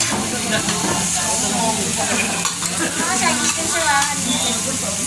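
Meat sizzling on a samgyup grill at a work Christmas party, a steady loud frying hiss with crackle throughout, and voices talking over it.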